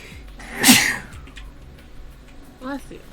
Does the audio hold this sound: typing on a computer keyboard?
no